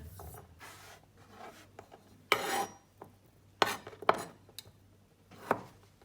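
Knife chopping potatoes finely on a board in a Goan kitchen, a few sharp, sparse cuts spaced seconds apart against a quiet background.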